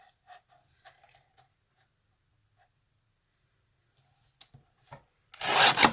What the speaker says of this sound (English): Get my cutter out here and just cut that last piece off.